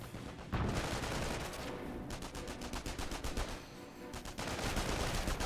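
Dense battlefield gunfire from the WWII strategy game Company of Heroes 1: rapid overlapping machine-gun bursts and rifle shots roll on continuously and loudly, with brief dips and heavier volleys near the end.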